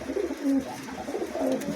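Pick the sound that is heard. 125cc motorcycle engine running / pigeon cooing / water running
pigeon cooing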